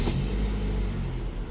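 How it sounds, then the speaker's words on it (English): A Honda S-MX starter motor cranks the engine, a loud close grinding churn that runs continuously for the whole moment with no talking. "Sounds very much like the Prelude starter motor."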